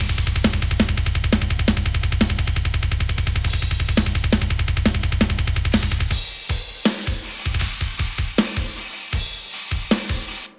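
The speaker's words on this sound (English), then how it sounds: "at the end of the day, you get a full drum sound like this" A full drum kit mix, tuned toward body rather than a clicky attack: steady driving kick and cymbal patterns for about six seconds, then sparser punchy hits and fills, played alone with no talking.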